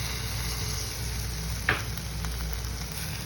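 A curry pan sizzles steadily and evenly, with a short sharp hiss and splash as a small amount of tamarind water is poured in, then the frying settles back to a low crackle, with no voices.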